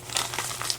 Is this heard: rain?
no